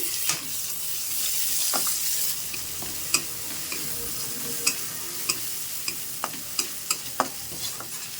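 Chopped ginger frying in a pan while being stirred, a steady close sizzle overlaid with a run of sharp, regular spatula taps and scrapes against the pan, no talking.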